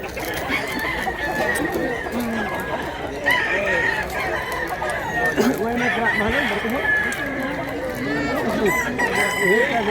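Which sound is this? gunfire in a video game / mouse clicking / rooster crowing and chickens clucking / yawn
rooster crowing and chickens clucking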